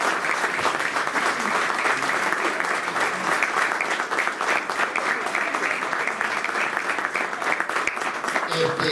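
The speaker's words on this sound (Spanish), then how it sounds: "La verdad que un aplauso para Carlos" Steady, sustained applause from a meeting audience, dense and even throughout with faint voices mixed in.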